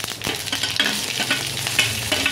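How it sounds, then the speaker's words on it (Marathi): Mustard seeds crackle and pop in hot oil while a tempering for khaman dhokla cooks, giving dense, close sizzling with sharp crackles scattered throughout. "मोहरी छान तडतडू द्यायची आपल्याला"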